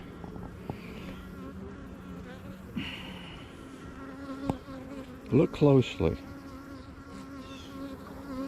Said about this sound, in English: I've got black bees. I got yellow bees.